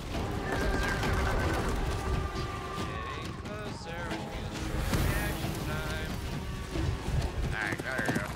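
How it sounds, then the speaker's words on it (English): A horse in the For Honor video game whinnies several times while being ridden, the neighs rising over a busy mix of clip-clopping hooves, battle noise and talk. "I don't know if there's any way to speed up my horse"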